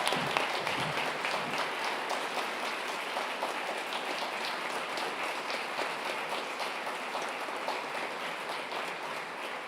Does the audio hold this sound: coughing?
no